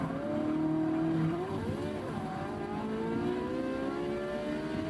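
Porsche race car drifting in Forza 6, engine droning steadily as tires squeal in long sliding tones that bend and waver, loud and continuous throughout with no talk.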